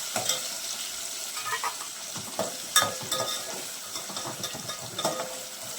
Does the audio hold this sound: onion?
yes